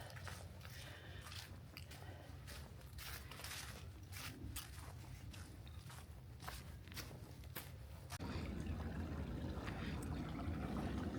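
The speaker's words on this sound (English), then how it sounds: "There's not much water in the creek today, but it definitely sounds pretty." Shallow creek water trickling and splashing over rocks on a desert hiking trail in the McDowell Sonoran Preserve, a steady broadband wash that grows slightly fuller near the end, with occasional rustles and no talk.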